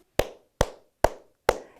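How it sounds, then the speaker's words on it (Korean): Four sharp, evenly spaced hand claps, close and crisp with short decays, beat out the syllables of a Korean word one clap at a time during a children's reading practice with word cards. "예를 들면 음절 박수 활동을 할 수 있겠습니다."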